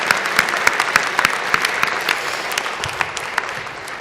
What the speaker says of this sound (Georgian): კიდევ ერთხელ გთხოვთ აპლოდისმენტები ქალბატონ ადელას და მის გუნდს საქართველოში